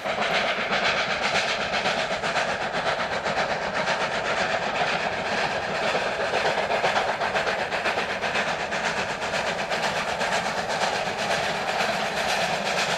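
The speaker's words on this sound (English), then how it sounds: "A double-headed steam train makes a great deal of noise in quiet countryside, attracting curious locals to the track." A double-headed steam train runs through quiet countryside, filling the air with a loud, continuous rumble of engines and rhythmic clattering wheels that holds steady throughout, with no voices.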